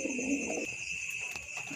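A pigeon gives a short, low, soft coo up close, then falls quiet beneath a steady high electronic whine and faint background noise.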